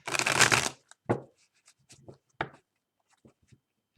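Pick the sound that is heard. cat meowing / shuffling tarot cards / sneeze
shuffling tarot cards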